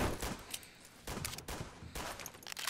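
Walther PPK pistol fired in Garry's Mod, heard as a few close, loud sharp shots at roughly even intervals, each with a brief ringing tail.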